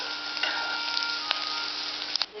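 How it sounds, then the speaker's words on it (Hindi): Onions sautéing in a pan for a drumstick-leaf (moringa) curry give a steady, close sizzle with faint ticks and stirring clinks throughout. "कलर चेंज हो जाए इतना हमें भूनना है प्याज को"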